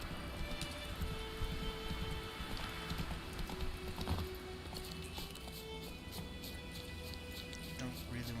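A horse gallops in The Witcher 3, its hooves clip-clopping in a steady quick rhythm at moderate distance under ambient game sound and music, fairly quiet overall.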